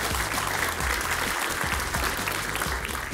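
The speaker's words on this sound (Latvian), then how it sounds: "Aplausu vēlreiz Kosinusiem no Rīgas." An audience applauds a Riga student physics team named Kosinusi, steady dense clapping filling the whole stretch at moderate loudness, with no voices over it.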